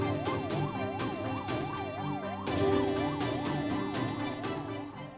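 An ambulance siren wails in a steady rising-and-falling cycle, loud and continuous, with no talk over it.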